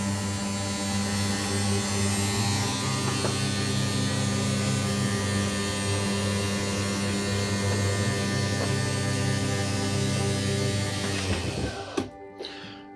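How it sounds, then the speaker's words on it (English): 12-volt electric slide motor moving a room on a 2021 Voltage 4225 toy hauler fifth wheel RV, a steady droning hum running continuously for several seconds before stopping with a few clunks. "All 3 rooms are 12-volt electric slide motors."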